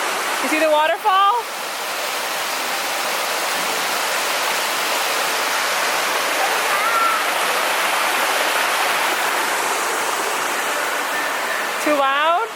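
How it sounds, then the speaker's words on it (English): An indoor waterfall at a Bass Pro Shops store roars as a loud, constant rush of falling water, with a voice and an adult's voice briefly heard over it at the start and end. "You see the waterfall?"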